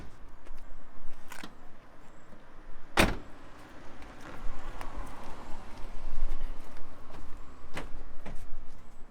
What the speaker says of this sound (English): We can now close these doors.